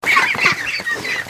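Free-range ducks on a farm, gathered at a feeding pail among fresh straw, give a run of loud, overlapping quacks and honking calls close by, with no talking.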